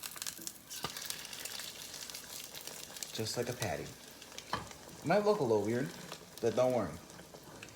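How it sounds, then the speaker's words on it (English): An egg fries crisply in a hot pan, giving off a steady close sizzle that runs throughout while a person talks over it. "So, here's the egg right now. It's currently cooking."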